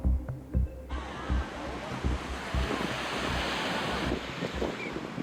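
Ocean waves at a beach: a steady wash of surf with wind noise buffeting the microphone, several low gusty thumps early on, moderately faint and with no talk.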